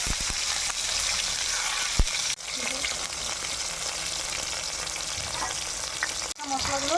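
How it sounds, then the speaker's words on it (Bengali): Chopped tomatoes frying in hot oil with cumin, bay leaf and dried chilli, a steady loud sizzle running throughout with a couple of sharp clatters and brief stirring, close up and without talk. "এখন কেটে রাখা টমেটোগুলো তেলে ছেড়ে দিলাম।"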